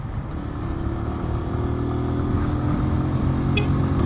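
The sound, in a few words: Keeway Cafe Racer 152 motorcycle riding, swing arm noise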